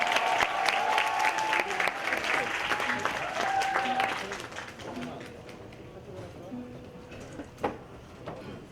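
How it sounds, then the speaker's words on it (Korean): A crowd at a talk concert breaks into loud applause that gradually fades over several seconds, with some voices mixed in. "자 강호달님이 지금 준비하고 있는데 큰 박수로 이분들을 맞이하면서 저는 인사합니다."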